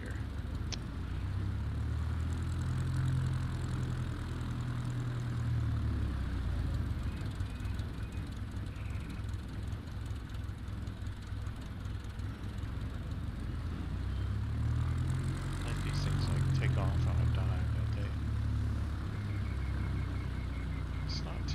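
Propeller airplane in Microsoft Flight Simulator 2024 taking off from a long runway, a steady droning engine roar with low throbbing swells that build and fade twice, continuous and fairly loud throughout.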